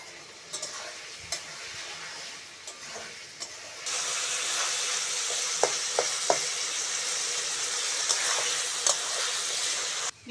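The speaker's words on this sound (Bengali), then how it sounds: "সবজিগুলো একসঙ্গে ভালো করে ভেজে নেব।" Chopped potatoes and mixed vegetables frying together in a pan, a quiet scraping stir at first, then a steady loud sizzle with occasional sharp knocks of the spatula against the pan.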